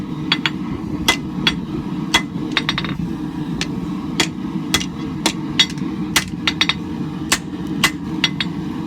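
A hammer strikes hot steel on an anvil, setting down a knife tang during forging: sharp ringing blows come in irregular clusters, close and loud, over a constant low background roar.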